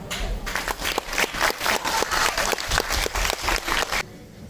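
Applause at a culture gala for standing actors, screenwriters, camera operators and editors, with loud rhythmic clapping in unison beating at a steady pulse for about four seconds before it stops abruptly.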